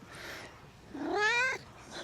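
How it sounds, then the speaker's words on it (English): A male cat gives a couple of loud, drawn-out greeting meows close by, the second one long and rising, with a softer call after it. "He started to greet me with long meows."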